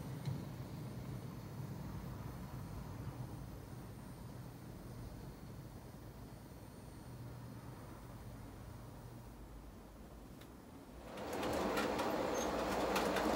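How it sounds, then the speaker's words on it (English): A DCC Concepts Zen Black model train shuttle runs along a layout siding and slows in a braking zone, a faint steady running hum that eases off before a louder rush of noise near the end. "It's entering the ABC braking zone now. It'll start to slow down"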